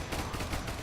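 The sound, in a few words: gunfire in video game Ultimate Epic Battle Simulator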